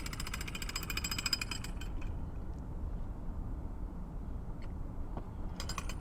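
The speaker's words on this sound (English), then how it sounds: "Kind of using a jackhammer to set those" Jackhammer driving large metal tent stakes into the ground at a street market setup: a steady, rapid mechanical hammering rattle, continuous and fairly distant, with no talk over it.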